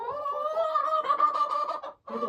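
A chicken clucks close by in a rising, drawn-out vocal run, followed after a brief pause by another short cluck, loud and clear with no talk over it.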